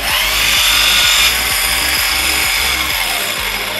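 Electric motor of a 4WD turbo RC drift car whirring loudly in boost mode, a steady high whine with rapid repeated pulses, close and alone without speech.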